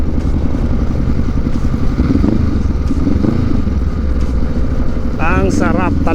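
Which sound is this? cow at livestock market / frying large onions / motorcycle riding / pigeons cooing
motorcycle riding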